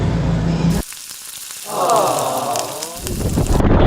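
Rain on Camiguin Island in the Philippines hisses steadily with a sizzling patter, broken by a brief quieter gap before the downpour returns.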